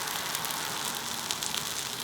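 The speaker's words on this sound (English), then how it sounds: "Listen to that sizzle." Eggs sizzle in a hot pan, a continuous close crackling hiss with small pops, heard alone without talk.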